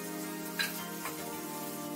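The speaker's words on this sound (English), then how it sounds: "And we will saute them for a few minutes." Carrots and sweet corn sautéing in a pan for veg noodles give a steady, close hiss and crackle, with a couple of brief clinks or stirs partway through.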